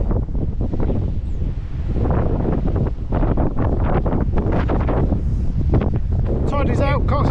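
Wind blowing hard on the coast, heavy continuous buffeting and rumbling gusts across the microphone, with brief chirping bird-like tones near the end.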